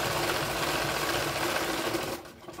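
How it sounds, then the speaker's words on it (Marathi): A sewing machine runs a double stitch on a cloth bag, whirring in a steady, close, continuous rattle that stops abruptly near the end. "तुम्हाला जर डबल शिलाई मारायची असेल तर तुम्ही डबल शिलाई पण मारू शकतात."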